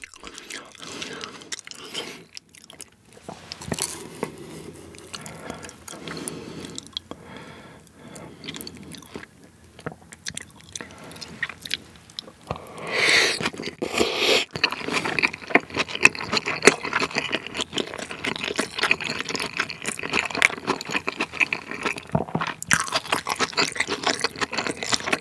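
Giant salmon sushi made from freshly sliced fish is eaten up close, with wet chewing and soft biting sounds that build steadily through the second half over a quiet background.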